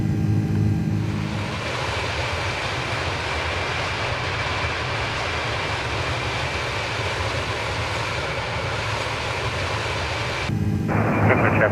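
A Condor Airbus A330 airliner climbs out of Frankfurt in a flight simulator, a steady, loud engine roar and airflow drone filling the cabin continuously, with a brief shift in tone near the end.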